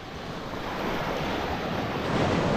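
Ocean surf rolls onto a beach at Malagundi in Lobo, Batangas, a loud, continuous wash of breaking waves mixed with wind buffeting the microphone.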